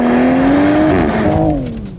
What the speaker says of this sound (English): we're gonna drive this car in sport mode and as humanly fast as possible